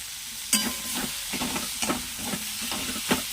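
Chopped banana flower with turmeric fries in a pan for mochar dalna, a loud close sizzle with a sudden clatter at the start and then regular scraping stirs roughly every half second.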